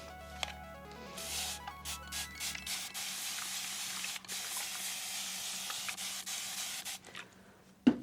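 A spray bottle misting a surface, several quick hissing bursts in a row early on, then quieter room noise and a final sharp click, close and fairly soft.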